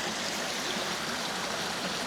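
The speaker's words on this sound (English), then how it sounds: "This class little Sandy's Creek." Small forest creek flowing over rocks in flat woodland, a steady, even rush of water heard close and alone.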